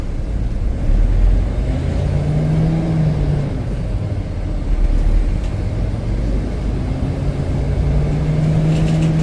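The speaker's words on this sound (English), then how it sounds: "Truck coming in." A truck engine rumbles low and continuous, drawing nearer with slight rises in revving over a steady heavy drone, no voices.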